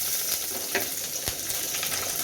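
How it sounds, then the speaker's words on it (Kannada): Mustard seeds pop and splutter in hot oil for a tempering for a vegetable dal sambar, a steady close sizzle with scattered sharp crackles throughout. "ಸಾಸಿವೆ ಹಾಕಿದ್ದೀನಿ ಸಾಸಿವೆ ಪಟಪಟ ಅಂತ"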